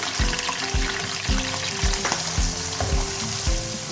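Onions fry in about one and a half cups of hot oil for a chicken karahi, giving a loud, steady sizzle broken by regular low knocks roughly every half second, with no talking.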